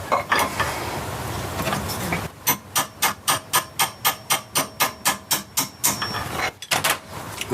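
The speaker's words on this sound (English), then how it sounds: "slide the spindle through the vice until it lands under the bearing, and then tap the spindle through" Restoring a Weber DCOE carburettor: a hammer taps the throttle spindle through a bench vice in a steady run of about fifteen sharp, evenly spaced metallic knocks, close and clear, after a short stretch of handling noise.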